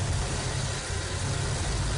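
A car engine idles steadily during a Seafoam valve cleaning, giving a constant low rumble with an even mechanical hum and no other sounds.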